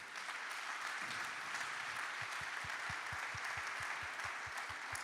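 Steady, fairly faint applause from an audience greeting Olympic archers Lisa Barbelin and Thomas Chiraud at a conference, with a rhythmic low thumping pulse running under the clapping.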